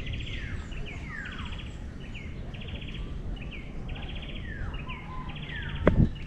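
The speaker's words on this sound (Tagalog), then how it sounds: "Puro ho nila ng ibon ng ano, marinig nyo dito." Birds sing on Mount Gahis, repeated bright chirping phrases and trills rising and falling over a soft outdoor hiss, with a brief knock near the end.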